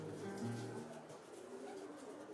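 Racing pigeons coo softly in a loft, a few low throaty rolling calls close by, fading into quiet background murmur.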